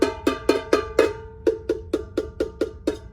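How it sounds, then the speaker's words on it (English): A homemade percussion instrument is struck with different objects on different areas, giving about eleven bright, ringing metallic hits in a steady rhythm, each one decaying quickly, close and fairly loud with no talking. "just by hitting it in different areas with different objects,"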